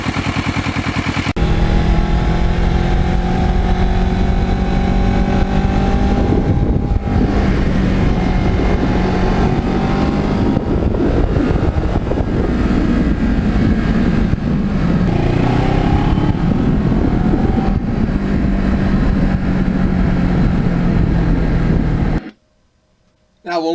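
A restored Ninja motorcycle ridden on a fall road, its engine loud and close with rising and falling revs through gear changes, buffeted by wind noise, before cutting out abruptly near the end.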